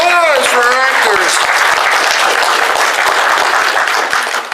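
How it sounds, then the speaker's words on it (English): An audience at a comedy improv show bursts into sustained applause and cheering after a voice calls out, and the dense clapping continues throughout. "Round of applause for our actors."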